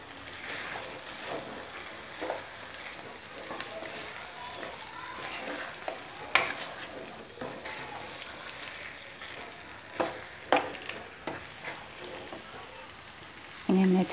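Fried paneer and capsicum pieces tossed and stirred in a kadai for kadai paneer, a steady close sizzle with scattered clinks and scrapes of a spoon against the pan, a couple of sharper knocks along the way.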